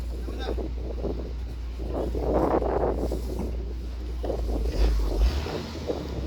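A wooden boat's motor hums low beneath gusting wind on the microphone, with water sounds and a voice talking briefly over it as the boat comes in to park.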